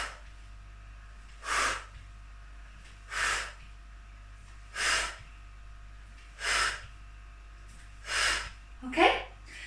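Slow, even breath exhalations during a pregnancy exercise, six soft airy puffs spaced roughly every one and a half seconds, close and quiet over faint low hum, the last slightly voiced.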